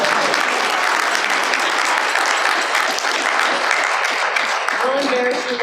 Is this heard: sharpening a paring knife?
no